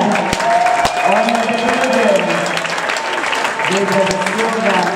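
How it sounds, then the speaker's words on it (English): Steady applause from a crowd at a junior reining championship award ceremony at a 2016 European championship, continuous clapping under an announcer speaking over a loudspeaker. "A round of applause, France again."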